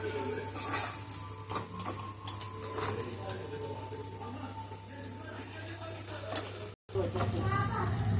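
Onions frying in a pan for a bitter gourd curry, a steady sizzle with clinks and scrapes of stirring and utensils against the pan, continuing throughout at moderate loudness.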